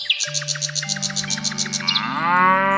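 A cow lets out one long, loud, close moo that rises and swells toward the end, with faint bird chirps in the background.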